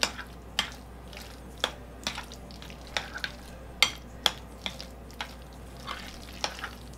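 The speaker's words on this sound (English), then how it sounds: "And then my cumin. That a good stir." A spoon stirs cumin into homemade guacamole, giving a series of close, soft wet squishes and light clicks against the bowl at an irregular rhythm, with no voices.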